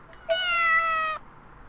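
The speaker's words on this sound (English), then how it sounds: "Whew, it's just a cat." A cat in the video game Corpse Party: Blood Drive lets out a single clear, sustained meow of about a second, loud and close, over a quiet background.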